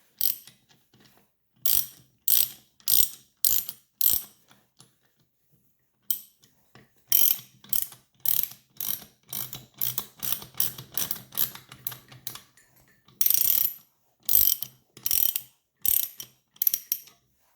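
A ratchet clicks in short bursts while cranking down a homemade valve spring compressor on a Honda B18 engine head, with crisp close ratcheting strokes separated by brief pauses.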